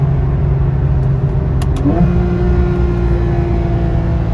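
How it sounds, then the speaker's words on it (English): A Porsche Carrera 4S engine roars steadily and close, its pitch dropping briefly as it downshifts from fifth to third before pulling hard again under acceleration. "we're gonna hit a downshift, 5th, 4th, 3rd, and we're gonna pull"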